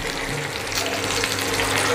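Fish roasting on a banana leaf in a pan, Kerala style, gives a close, steady frying sizzle with soft crackles throughout.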